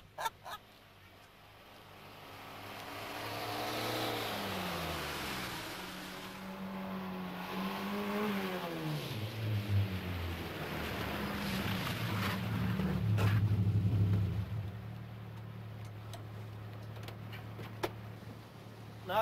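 A car accelerating hard in third gear, its engine note climbing in rising sweeps and growing louder toward the middle, then holding a strained, steady roar before fading, with no talk over it.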